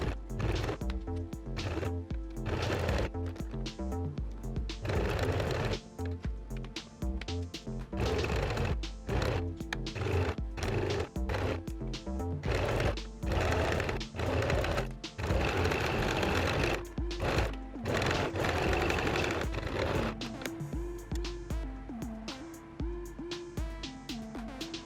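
Sewing machine stitching a curved seam on fabric for a scrunchie wreath, with back stitches at start and finish: loud rapid mechanical bursts of needle runs separated by short pauses, close and alone.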